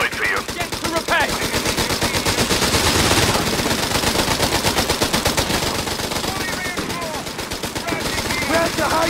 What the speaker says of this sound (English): Heavy machine gun has been deployed for you.